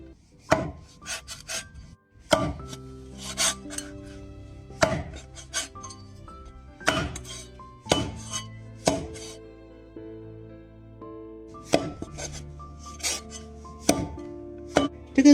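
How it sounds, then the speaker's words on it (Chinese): A knife chops meat into small pieces on a board, sharp close thuds coming in irregular bursts and single strikes with short pauses between, no voices. "再把肉切成小块"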